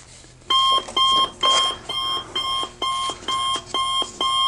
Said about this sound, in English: that alarm is just for anyone who actually did fall asleep while I was laying out and cutting this template